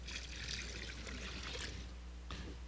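Apple cider pours steadily into a brine of brown sugar, kosher salt, peppercorns, juniper berries and clove, a soft continuous trickle and splash that stops briefly near the end, quiet and close.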